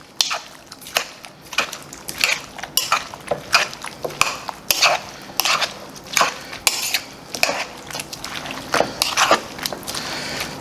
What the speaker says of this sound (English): Give it a nice little toss again.